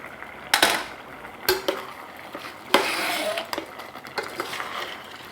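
Pasta Bolognese being portioned onto plates in a kitchen, with several sharp clinks and clatters of dishes and cutlery in quick bursts, close and moderately loud, with no talking.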